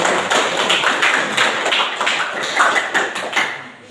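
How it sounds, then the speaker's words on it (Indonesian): A burst of hand clapping from a small group, loud and rapid at first, then fading out toward the end. "Tepuk tangan dulu untuk teman-teman."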